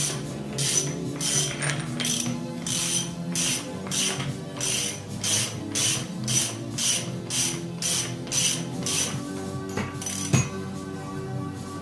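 A ratchet with a socket turns on a Honda RVT1000R SP2 Showa fork, giving a steady run of repeated clicking pawl sweeps at an even rhythm, close up, with a sharp metallic knock near the end.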